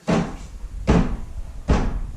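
Three solid thumps of a door shutting indoors come at even intervals, each a sharp close impact with a short dull decay, fairly near and moderately loud over a low room hum.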